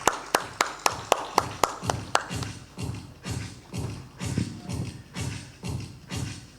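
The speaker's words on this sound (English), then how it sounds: "Let's give him a huge round of applause." A few sharp, separate claps from the audience for Anand Prakash Gupta at a packaging industry panel discussion. They give way to a run of softer rhythmic thumps and shuffling.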